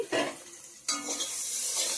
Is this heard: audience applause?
no